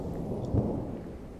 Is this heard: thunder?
yes